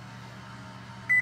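Short electronic beeps from a kitchen timer being set for muffins, a bright tone near the end over a steady low background hum.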